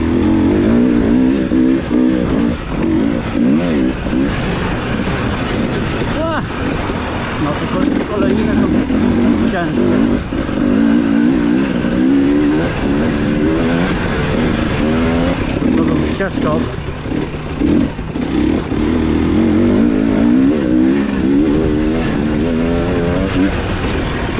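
An amateur rider runs a pit bike with a weak front brake on a hard-packed motocross track, its small engine revving and buzzing continuously, with someone talking over the engine noise throughout.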